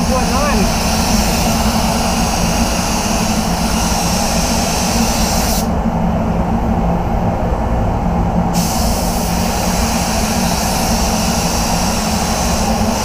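Steady, loud hiss of a DV1 paint spray gun with a 1.9 setting running continuously over a car bonnet, with a low mechanical hum beneath and a brief drop in the high hiss partway through.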